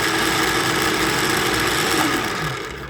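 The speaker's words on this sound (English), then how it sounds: "As the pecans fall on the blades more, you can hear the RPMs drop just a touch and it pulls more power." A blender motor grinds pecans into butter, a continuous loud whirring drone that labours and dips slightly in pitch near the end as the load increases.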